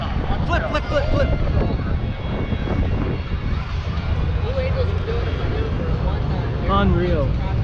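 A helicopter flipping and rotating at the Dayton air show gives off a loud, roaring engine and rotor drone with rising and falling pitch, under an announcer's commentary and crowd talk.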